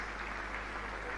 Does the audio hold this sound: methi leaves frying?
no